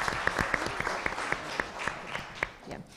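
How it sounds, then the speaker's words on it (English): At a school board meeting, a small group claps for a student named Best Presenter. The claps are sparse, distinct and irregular, and they grow softer toward the end. "A round of applause for that."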